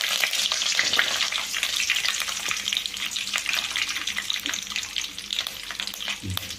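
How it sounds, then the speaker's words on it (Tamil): Garlic fries in a pan with oil, a steady bright sizzle and crackle that continues throughout, close and moderately loud, with no talking. "அடுத்தது பூண்டு போடுறோம்."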